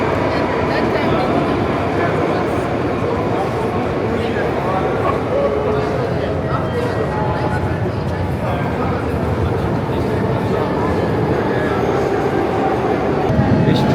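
Moscow metro train rumbling steadily through a station, a continuous loud roar of wheels and rails that fills the whole stretch without pause, with a brief louder surge near the end.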